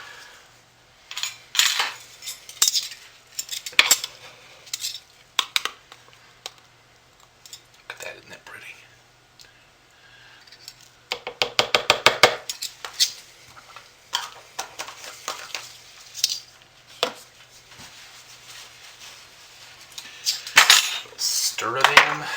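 Shimmer Gold is stirred into soap batter, producing bursts of clinking and scraping from a utensil against the container, with quieter pauses between stirring spells.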